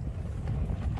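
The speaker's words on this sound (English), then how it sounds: "It's a bit windy, as you can probably hear." Gusty wind blowing across an open moor on Kinder Scout during a wild camp, a steady low buffeting rumble against the microphone throughout the short stretch, with no other sounds.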